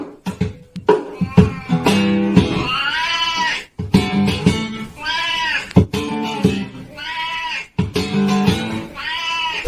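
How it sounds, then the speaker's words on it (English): A cat meows along with guitar strumming, giving a run of long, drawn-out, tonal meows in a repeating pattern over plucked and strummed chords, close and clear. "A musical cat harmonizes its melody with the strumming of a guitar,"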